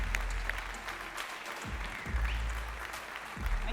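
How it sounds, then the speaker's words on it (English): An audience applauds to welcome a conference speaker, dense steady clapping from a large crowd at moderate distance, holding level for the whole stretch. "So please give a big warm applause for Megan."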